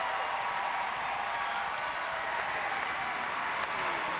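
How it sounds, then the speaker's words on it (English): Crowd applause echoes through an Olympic swimming pool venue in London, a continuous, fairly distant roar of clapping with no clear individual voices. "Everyone standing ovation as she touches the wall."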